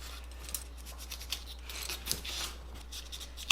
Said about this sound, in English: Now we're cutting out some more pieces for the hands, more detail on the little hand pieces.